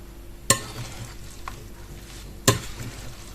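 Two sharp clinks of a utensil against a bowl of zucchini fritter batter, about two seconds apart, over a quiet background of soft mixing.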